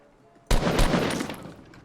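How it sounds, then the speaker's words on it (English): A sudden loud burst of automatic gunfire in Fortnite, breaking from near silence into a rattling volley that tails off over about a second. "Is there another guy shooting at me?"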